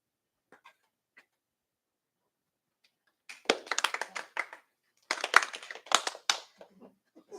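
An audience at a talk claps along in scattered bursts, a few faint isolated claps followed by two louder rounds of uneven applause with quiet between them.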